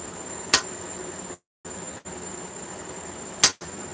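Two sharp, ringing hammer blows strike metal during forging, spaced about three seconds apart, close and loud against a quiet background.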